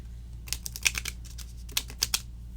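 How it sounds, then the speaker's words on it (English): A chunky, thick tarot card deck being shuffled, giving soft papery riffles and taps in short irregular bursts, close and fairly quiet, with no talking. "let's take a look at how we shuffle. It's a chunky deck"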